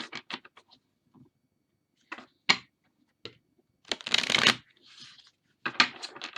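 Oracle cards being riffle shuffled by hand in several short bursts, with a longer crisp cascade of riffling in the middle and quieter card handling between, close and fairly soft with no talking.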